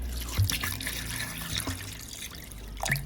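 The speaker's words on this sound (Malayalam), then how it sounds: "2-3 ഗ്ലാസ് വെള്ളം ഒഴിക്കുന്നുണ്ട്." Water poured over raw mango pieces and ice cubes in a vessel for juice, with soft, close trickling and a few faint splashes and drips, quiet and without talk.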